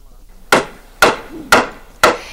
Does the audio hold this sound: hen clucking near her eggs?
no